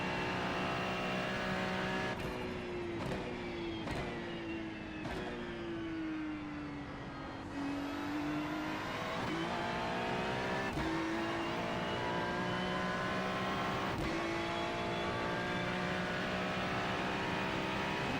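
A GT3 race car laps Sebring in a video game, its engine droning loud and close with rising and falling pitch through gear changes, sharp shift blips and long sweeping tones under acceleration, with no talk.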